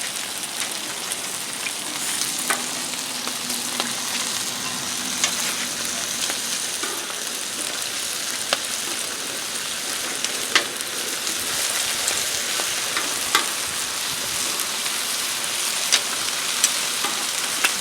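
Seasoned chicken frying on a Blackstone griddle, a dense, steady sizzle like heavy rain with occasional sharper pops and crackles, close and continuous with no talking.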